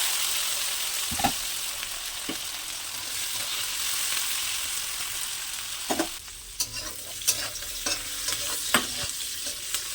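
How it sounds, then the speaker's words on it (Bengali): Garlic, jackfruit seeds and dried chili frying in oil: a steady hissing sizzle with a few sharp clinks of a utensil stirring against the pan, mostly toward the end, and no talking. "গ্যাসটা কমিয়ে দিয়ে আস্তে আস্তে করে ভাজবো"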